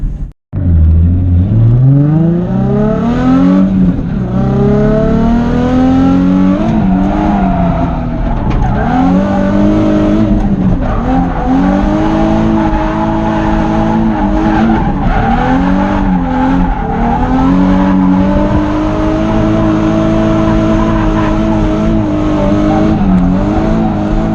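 A car on Vitour tires making a drift run, its engine revving hard and rising and falling in repeated swells with tire squeal over a long, loud, close stretch.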